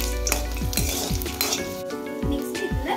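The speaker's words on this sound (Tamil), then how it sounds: "நெக்ஸ்ட் இதில் 4 பல்லு பூண்டு ஆட் பண்ணிக்கொள்ளுங்க. இது ஒரு நிமிஷத்துக்கு லைட்டாக வதக்கிட்டு" Dried red chillies and garlic cloves sautéing in a pan on an Andhra-style stovetop, a loud continuous sizzle and frying crackle broken by repeated clinks and scrapes of a spoon stirring against the metal pan.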